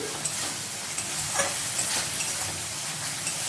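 Mutton and masala sizzle steadily in a pan while being stirred, a close, continuous frying hiss with occasional soft scrapes and no talking.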